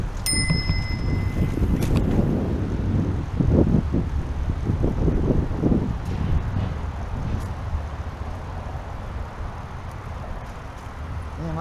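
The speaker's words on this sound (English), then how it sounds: "we ring our bells in blind corners." A bicycle bell rings crisply a few times at the start of a recumbent bike ride on a hot, sunny day, then fades into a steady rush of wind and road noise.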